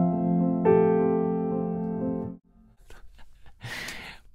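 A piano octave line moving from the major seventh to the third in a tutorial, sustained harmonic tones ringing about two seconds, then cutting to a few faint soft noises and a brief breathy burst.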